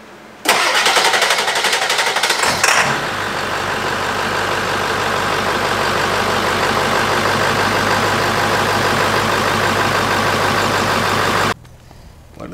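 A Ford 7.3 diesel engine cranks briefly, catches, and then settles into a loud, steady, close-up idle that runs for about nine seconds before cutting out, with no one speaking.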